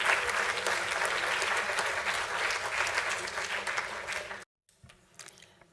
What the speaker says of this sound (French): je propose qu'on décoche une salve d'applaudissements d'encouragement à Madame Catherine Chase.